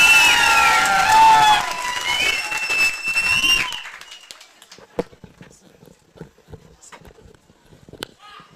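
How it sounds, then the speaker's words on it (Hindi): A crowd applauds and cheers for a teacher at a gurukul opening, loud clapping and shouts over melodic background music for about four seconds, then a hush with scattered faint claps and noises. "तो एक बार दिल से जोरदार तालियां हो जाए हमारे गुरुजी के लिए"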